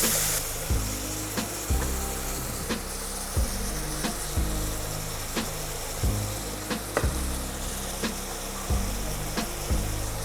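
Minced meat and chopped onion cooking in a pan for a chilli bean stew, giving a steady broadband sizzle with regular clacks of a utensil stirring against the pan, close and alone without talk.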